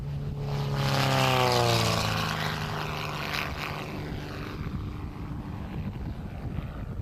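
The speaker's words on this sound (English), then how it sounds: "Overhead, it's the familiar sound of another Corvair-powered airplane in the pattern" A Corvair-powered light airplane passes overhead in the airport pattern. Its propeller drone swells loud and close, then drops in pitch and fades into a steady distant hum, with some wind buffeting the microphone.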